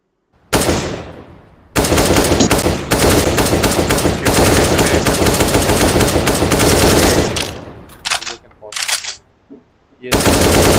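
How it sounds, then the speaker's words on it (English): Loud bursts of fully automatic AK-47 rifle fire from the game CS:GO ring out in long sustained volleys, with short gaps, a few scattered shots and a final renewed burst; no voices. "That's the AK from CSGO."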